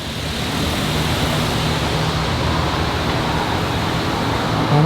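A pressure washer sprays down a car at a car wash, producing a steady, loud hiss of water spray that continues unbroken and swells slightly at the very end.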